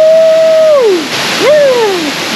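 Waterfall at the basalt prisms in Huasca, Hidalgo, a steady close rush of falling water, with two sliding whistle-like tones gliding over the roar.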